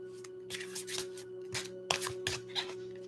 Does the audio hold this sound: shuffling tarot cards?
yes